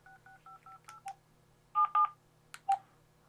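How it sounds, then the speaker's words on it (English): An AT&T BL102 cordless phone sounds a rapid run of short keypad dialing tones, then a few louder, longer beeps, each distinct and close against a quiet background. "Once you have the number, press this button to dial."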